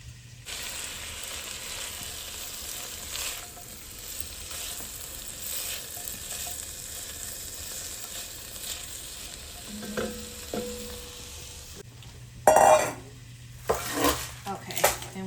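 Onion fries in a soup pot with a steady soft sizzle, then a spoon stirs and clatters against the metal, with louder knocks and scrapes near the end.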